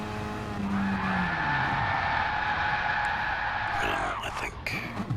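A racing car in a video game skids across the finish line under the handbrake, its tyres letting out a long, loud squeal over engine noise that fades after about four seconds.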